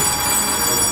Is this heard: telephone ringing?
yes